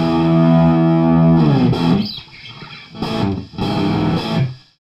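A Stratocaster electric guitar captured through a room mic, playing with effects and distortion: a sustained chord rings out, then several strummed or picked bursts follow with an audible sense of room space, loud and alone.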